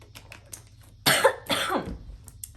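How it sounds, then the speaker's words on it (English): Two harsh, close coughs in quick succession, loud against a quiet background. "I cough on my own spit and water"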